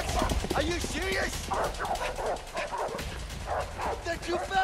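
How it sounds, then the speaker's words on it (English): In the video game A Way Out, dogs bark and yip excitedly during a chase, with repeated close barks and whimpers over running footsteps and shouting voices. "Fucking dogs!"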